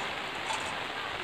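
Steady rain patters in a mountain forest where workers are logging acacia, a soft even hiss with no other sounds standing out.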